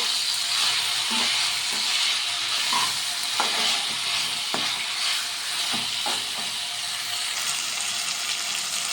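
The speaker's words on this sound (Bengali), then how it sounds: "ছোটো করে টমেটোগুলো দিয়ে দিলাম। এবার এটাকে সুন্দর করে কষাবো।" Small-chopped tomatoes sautéing in hot oil, a continuous sizzle with scattered clicks and scrapes from stirring, moderately loud and close with no talking.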